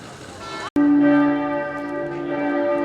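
Church bells ring out at noon in Cochem, a sustained bright, resonant peal with overlapping tones after a brief break, heard over light town background noise.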